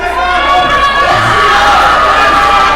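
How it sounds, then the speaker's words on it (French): A wrestling crowd at an AWE event chants and counts along with referee Max, a loud, dense wall of voices that stays continuous throughout. "La foule qui compte avec Max."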